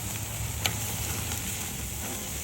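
Lamb chops sizzle on a grill over direct fire, a steady close hiss of fat and marinade with one brief sharper pop, no voices.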